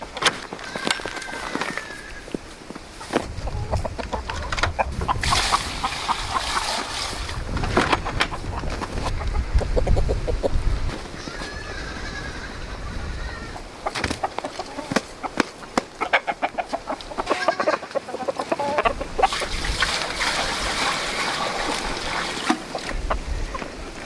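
Chickens cluck and squawk on and off while being fed food scraps, amid rustling and clattering, with occasional bursts of scattering movement, fairly close.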